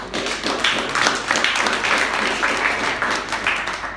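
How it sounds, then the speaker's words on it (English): Audience clapping at a community launch event, dense and steady throughout, fairly close and loud. "A round of applause for them."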